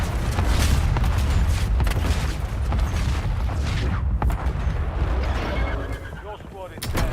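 Airstrike explosions in a video game roll on as a loud, continuous barrage of deep booms, with heavy rumbling layered over dense battle noise for several seconds; speech is present in the mix.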